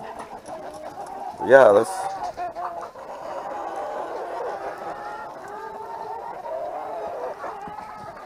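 Chickens clucking steadily in a backyard flock that includes newly added big birds, a sharp crow-like outburst near the start, with a person speaking briefly over the birds.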